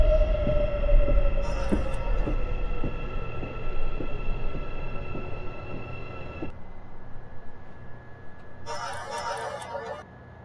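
An Airport Railroad train on the Incheon Airport to Seoul line runs and slows to a halt at Unseo station, with wheel clicks over rail joints, a falling motor whine and a hiss of air at the stop.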